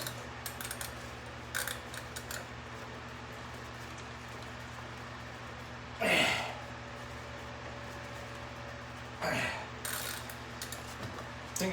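A Norton Commando rotor nut on a 1972 Combat is cranked down with a ratchet, giving two short loud bursts of clicking against a steady low workshop hum, with faint earlier clicks.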